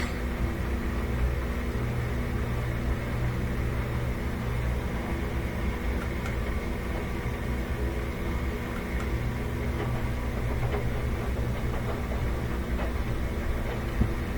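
A Miele washing machine drum picking up speed on a slow spin during a silk cycle, heard as a steady, loud mechanical hum and rumble that stays even and continuous throughout.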